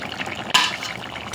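A metal lid lifts off a pot of simmering banana stem and potato curry with a sudden clank, followed by a hiss of steam and soft bubbling, close by with no talking.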